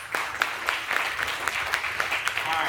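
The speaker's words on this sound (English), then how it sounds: "let's give her also a round of applause so she can hear us" A crowd applauds at a school's ten-year anniversary ribbon-cutting celebration, a steady patter of many hands clapping with a few sharper individual claps standing out, moderately loud and continuous.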